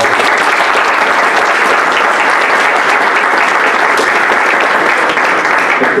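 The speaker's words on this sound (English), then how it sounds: "Let's give them one more round of applause." Audience applause fills a board of education meeting, a loud and steady wash of many hands clapping that holds unbroken for the whole stretch.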